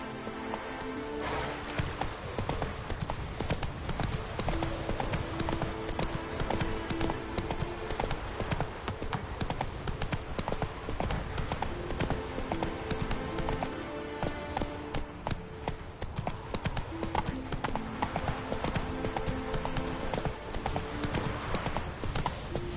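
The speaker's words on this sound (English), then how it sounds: "Whoa there, Roach." Horse hooves galloping in The Witcher III video game, a fast steady clip-clop rhythm running continuously and loudly over a dense game soundtrack, with an occasional faint whinny.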